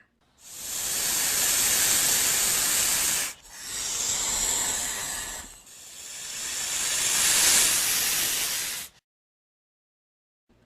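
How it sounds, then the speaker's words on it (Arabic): Snake hissing in three long, loud, breathy bursts separated by short dips, close and alone, then silence. "ثعبان."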